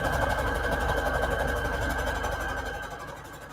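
Sewing machine running steadily while stitching paper scrap trim for a book, a close, continuous rhythmic whir that slows and fades slightly at the end.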